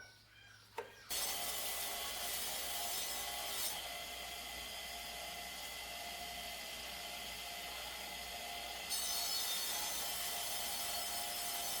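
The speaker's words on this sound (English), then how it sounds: "So we're cleaning up the mower blade on the wire wheel just to get it all cleaned up." A lawn mower blade being cleaned on a spinning wire wheel gives a steady, loud abrasive grinding hiss that starts after a brief quiet moment and runs continuously, swelling in intensity near the end.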